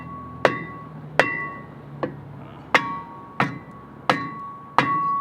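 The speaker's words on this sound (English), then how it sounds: "bang that on a little bit, I guess. Use the old hammer." Hammer banging a brake rotor onto the rear hub of a 2015 Subaru WRX, seven sharp metallic strikes with ringing decay, spaced about two-thirds of a second apart, close and loud in a quiet garage.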